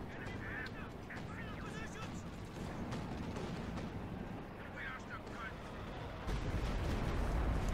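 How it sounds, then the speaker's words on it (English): Artillery barrage in Company of Heroes 2, a dense, continuous rumble of distant shelling and booming impacts with honking-like game effects layered over it, getting heavier toward the end. "they're gonna super artillery my base"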